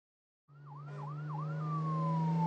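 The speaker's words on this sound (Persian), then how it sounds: "ماشین آتش نشانی." A fire engine siren starts abruptly with a few quick yelping sweeps, then settles into a falling tone over a steady low engine drone.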